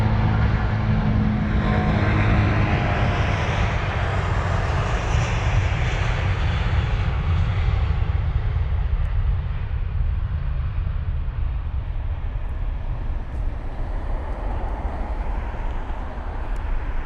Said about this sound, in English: that was flight number BA67, the British Airways Great Festival of Creativity special livery